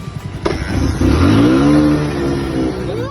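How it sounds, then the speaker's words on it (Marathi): A car engine, stalled in a flood, cranks, catches with a sharp click, then revs up loudly, its pitch rising and holding in a steady roar close by. "गाडी चालू झाली आता"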